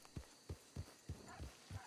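Horse hooves clip-clop in a role-play video game, six even, close thuds spaced about a third of a second apart at a steady walk.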